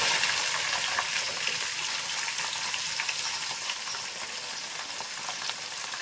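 Onions sizzle loudly in hot oil in a pan for milk mutton biryani, a dense steady crackling hiss with small pops, close and unbroken.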